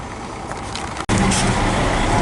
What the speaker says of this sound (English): a 980M is a big loader